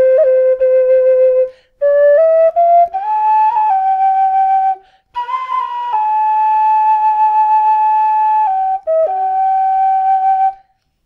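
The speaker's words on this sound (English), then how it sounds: "This is the amplified sound without echo." A tin whistle played through a mini amplifier plays a slow, clear, amplified melody of sustained notes with brief gaps between phrases and no echo.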